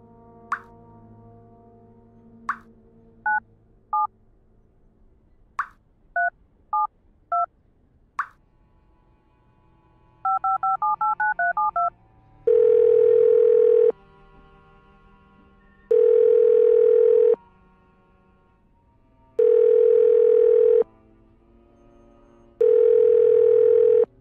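Telephone keypad tones dialed one by one in the point-and-click game Art of Murder, followed by a steady repeating ring signal of four long bursts with gaps, unanswered, clear and alone.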